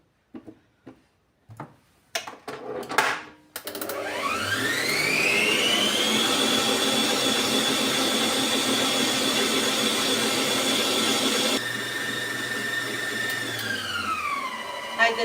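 An electric hand mixer beats butter for a cake cream, starting after a few taps and clatters, then holding a loud, steady whirring drone whose pitch shifts slightly as the beaters work through the bowl.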